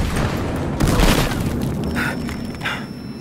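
A grenade goes off in the Battlefield Hardline shooter game, a loud close boom with crackling debris and a second smaller burst shortly after.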